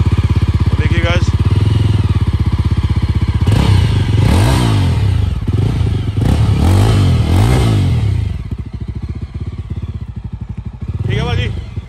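A Yezdi Adventure motorcycle with a modified exhaust idles and revs loudly up close, its engine rising in several throttle blips over a steady rumble, while people talk over it.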